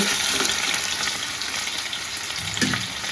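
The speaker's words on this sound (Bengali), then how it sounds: "এটা একটু ভেজে নেবো দুপাশ কালার এসে যাবে" Pieces frying in a pan until both sides brown, giving a steady close sizzle with crackling spatter throughout, loud and alone with no talk.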